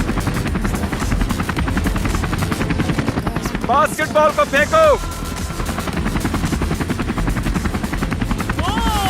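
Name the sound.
helicopter flying overhead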